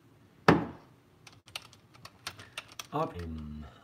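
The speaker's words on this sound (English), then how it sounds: "So we're going to type in Optimus Prime." A computer keyboard is typed on in short bursts of clicky keystrokes after one louder knock, with a brief spoken word near the end.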